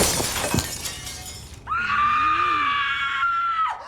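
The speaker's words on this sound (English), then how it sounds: "Dewey begins to buck shots off at the mirror" Glass shatters loudly near the start of a horror-film scene with a mirror blasted by shotgun fire, followed by a sustained high shrieking scream.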